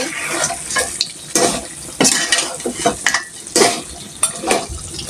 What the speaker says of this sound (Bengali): এই যে মাংসটা এখন আমি কষাচ্ছি